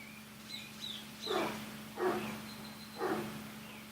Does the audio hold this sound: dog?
yes